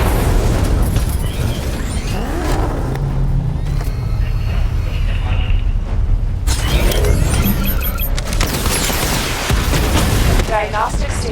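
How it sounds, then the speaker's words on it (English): A missile barrage fires in Batman: Arkham Knight, heard as a dense, loud stretch of repeated bursts and booms with continuous rumbling explosions throughout. "Missile barrage level 2 ready"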